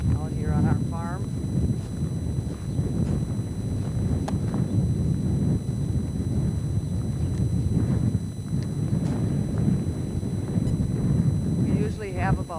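Steady wind roars and buffets the microphone on a cold Memorial Day weekend on a Minnesota beef cattle farm, with faint voices and knocks underneath throughout.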